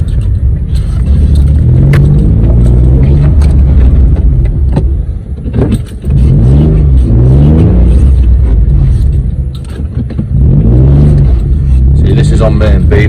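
A Citroen C1 small hatchback car engine idles and drives at low speed while turning around, a steady close rumble under continuous talk from a man inside.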